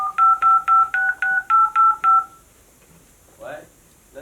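Telephone keypad tones for an international call in a staged sound-effects skit: eight evenly spaced dialing beeps in quick succession, loud and close, followed by a brief faint voice.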